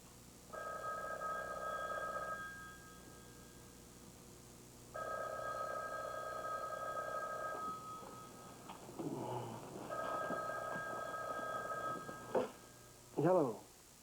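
A telephone rings in repeated long electronic bursts, each separated by a pause, fairly loud and close indoors; a shuffling rustle follows between rings before a brief knock-like clatter as the receiver is picked up.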